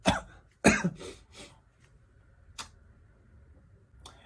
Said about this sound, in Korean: 이제 이런 식으로 기침을 좀 하게 됐는데